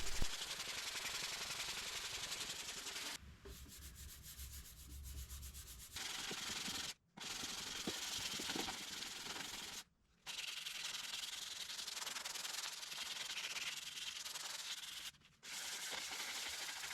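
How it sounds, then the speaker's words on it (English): Body filler on a Dodge Ram 2500 truck is sanded at 180 grit, a continuous close, steady abrasive rasp lasting most of the stretch and broken by a few brief pauses. "I have everything sanded to 180"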